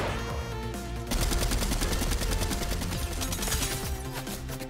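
Rapid automatic gunfire in a Fortnite match rattles loudly and continuously, bursts overlapping with dense repeated shots and no talk.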